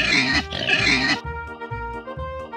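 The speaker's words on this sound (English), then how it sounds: "Cerdo, pig, cerdo," A farm pig gives several rough, breathy grunts up close, then a string of short, rhythmic oinks that repeat steadily.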